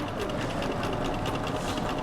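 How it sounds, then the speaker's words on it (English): A sewing machine stitches fabric along a hem in a rapid, even mechanical whir with fine repeating needle clatter, steady and close for a couple of seconds with no talking. "And I'm going to sew all the way off."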